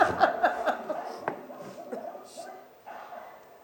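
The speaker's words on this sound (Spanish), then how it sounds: "Están ladrando los perros." Dogs bark in a quick cluster of yaps that fade to sparse, fainter woofs, with voices heard alongside in a stage setting.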